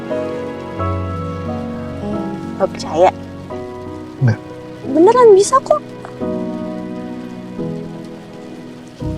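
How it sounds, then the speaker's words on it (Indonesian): Heavy rain pours steadily throughout, a dense wash of falling water heard under several people talking. "di tengah derasnya hujan"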